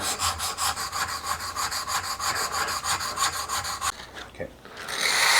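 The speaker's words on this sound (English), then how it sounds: "I normally don't sharpen my irons all the way down to 25, but we want to do it for this one." A Stanley 62 plane iron is honed at a low 25-degree angle with steady rhythmic rasping strokes, close and continuous, pausing briefly before the scraping resumes; no one speaks.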